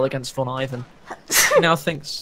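A sneeze bursts out during an online conversation about a GCS2 qualifier wargame, a sharp noisy blast set among stretches of speech from others on the call.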